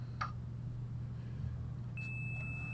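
A Commodore 64 (C64U) gives a short, steady electronic beep as a tape starts loading, heard through a microphone over a low continuous hum and rumble.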